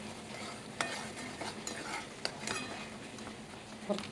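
Sauce fries in hot sunflower oil in a pan as it is stirred, making a soft, close sizzle with light scraping and occasional clinks of a utensil.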